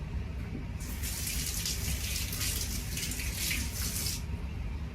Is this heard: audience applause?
no